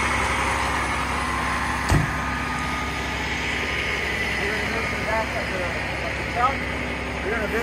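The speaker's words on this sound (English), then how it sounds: "You can hear the motor, the RPM go up" Fire truck aerial tower engine at high idle with RPM rising to drive the ladder, a continuous low diesel drone under someone speaking, with a sharp clank near two seconds.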